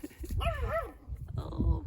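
A puppy gives a short run of high, pitch-bending yips and whimpering barks close by, mixed with a person's friendly talk and background rumble.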